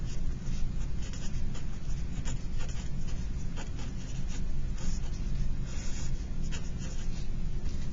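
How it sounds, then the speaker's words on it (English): A pen or pencil scratches steadily as equations are written out by hand, a close, continuous scraping with small taps and strokes and no voice over it. "I'm just going to write them all out and then just put their names next to them."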